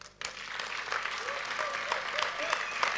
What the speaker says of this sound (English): So let us give the big loud applaud.